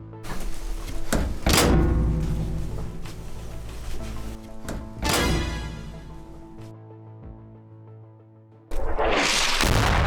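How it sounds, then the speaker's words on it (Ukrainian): Several heavy metallic thunks and clanks of an artillery gun's breech closing ring out, loud and close, each followed by a lingering hum, with a final hard slam at the end. "Але закрився крім затвор на гарматі."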